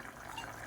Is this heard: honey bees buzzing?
no